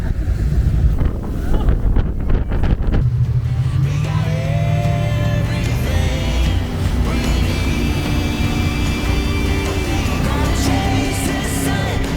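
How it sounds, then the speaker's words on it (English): A boat runs through the rapids of Oregon's Rogue River, with constant loud rushing water and heavy wind buffeting the microphone throughout, and a steady engine drone running beneath the churn. "We're going back through those rapids."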